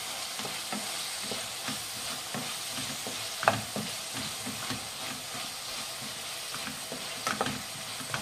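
Capsicum and peas gojju frying in a pan is stirred, giving a continuous soft sizzle with scraping strokes and one sharper clink.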